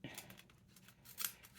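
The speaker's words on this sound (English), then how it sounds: "I'm going to cut it" Scissors snip through thin craft paper in a few quiet, crisp cuts close by, with one sharper slice near the end and no voices.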